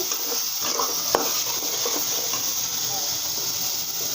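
Spices fried and stirred with fish in a pan for a greens and fish dish, a steady close sizzle with soft scraping strokes and one sharp clink of utensil on pan.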